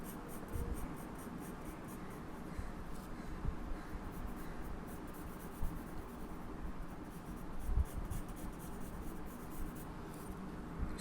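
A pencil scratches and rubs across paper in soft, continuous strokes, close and quiet, with occasional light taps and louder scrapes as the face shape is sketched.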